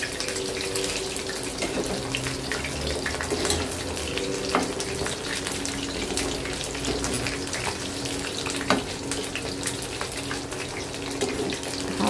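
Chicken fries in a pan over medium heat, giving a steady, even sizzle with scattered small crackles and pops and no voices.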